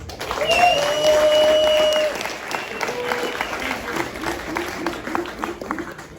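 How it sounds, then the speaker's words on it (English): Applause from a crowd at an album listening session swells loudly at the start, then thins into scattered clapping and cheers, with a whistle near the beginning. "Like, a round of applause for Herc"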